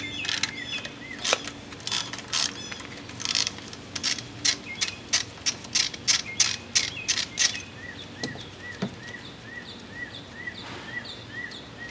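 A hand ratchet tightens a spark plug on a Toyota Corolla engine, clicking in quick bursts of short strokes with brief pauses between them, close and clear.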